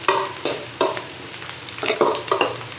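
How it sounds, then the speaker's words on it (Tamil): Sliced onion and five crushed garlic cloves fry in a pan, with a steady sizzle broken by repeated scraping stirs at an irregular rhythm, close and clear with no voices. "இப்போ இந்த வெங்காயம் கொஞ்சம் வதங்கிடுச்சுன்னா பூண்டு ஒரு 5 பல் பூண்டு நெசுக்கி போட்டுக்கோங்கம்மா"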